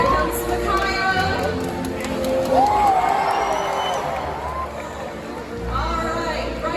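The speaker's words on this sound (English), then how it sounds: "when we see it, let's give him a great big cheer." A SeaWorld stadium audience in Florida cheers and whoops for the orca Makayo, with broad crowd noise running throughout while an announcer talks over it.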